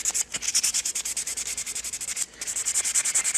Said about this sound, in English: I'm just going to use straight 400 grit sandpaper